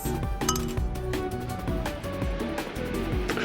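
Beer glasses clink together in a toast at a beach bar, with several bright clinks standing out against background music and ambient noise.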